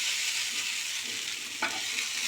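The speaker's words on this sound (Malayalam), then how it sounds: "ഈ അവിലിനെ ഒന്ന് നന്നായി വറുത്തു." Flattened rice (aval) dry-roasting in a pan while being stirred, giving a steady close hiss with a brief scrape about two-thirds of the way through.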